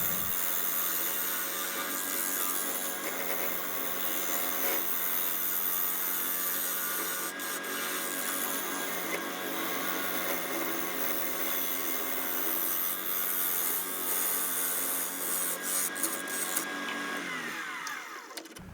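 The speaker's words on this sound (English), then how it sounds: "Notice I move the Forstner bit in slowly, little by little" A steady, grinding whir of a Forstner bit boring into spalted sweetgum wood on a spinning lathe to hollow a bowl, continuous and fairly close, cutting off near the end.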